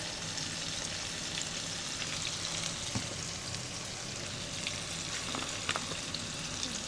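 Green beans frying in a pan on a stove set to high, a continuous dense crackling sizzle with occasional sharper pops, close and steady with no voices.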